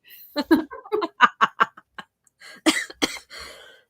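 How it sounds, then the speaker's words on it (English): Close coughing breaks through at the end, a couple of rough bursts following a stretch of excited talking. "I'm sorry, I have to cough."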